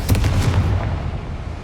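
A Confringo explosive spell blast in Hogwarts Legacy: a loud burst of rapid cracking impacts in the first half second, then a heavy rumbling boom that decays steadily, heard alone.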